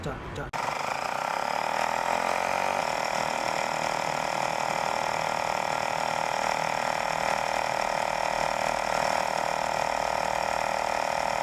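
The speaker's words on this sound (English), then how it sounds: "the pump will automatically inflate the tire" An automatic electric tire pump inflates a tubeless Triumph motorcycle tire, a loud, steady mechanical buzzing drone that starts abruptly and holds constant throughout.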